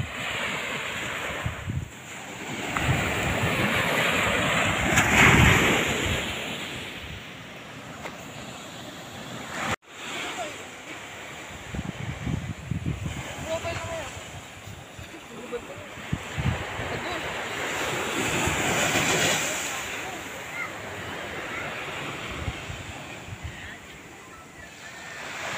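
Waves wash onto a sandy shore under gusting wind, a steady surf roar with loud microphone wind buffeting and a sharp dropout midway, while people talk over it.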